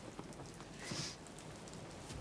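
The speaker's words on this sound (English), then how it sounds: "Look at that rain." Rain falls steadily during a passing summer storm, a soft continuous hiss of drops on surfaces that swells briefly near the middle, with no voices over it.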